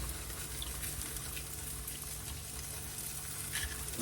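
Eggs frying in a pan at breakfast, with a steady, dense crackling sizzle throughout and a few brighter pops near the end.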